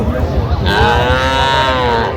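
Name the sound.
cattle mooing at a livestock market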